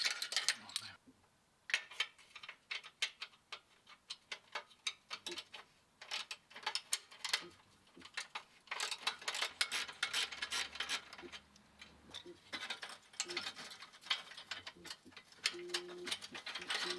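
A ratchet clicks in rapid, irregular bursts while undoing the bolts of the rear muffler box on a BMW E46 M3, close up and faint, with no talk.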